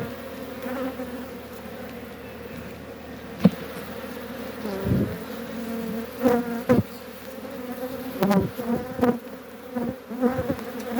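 A swarm of Kılıç honeybees buzzes steadily and close, with individual bees droning louder as they pass nearby over a continuous hum, and no talk.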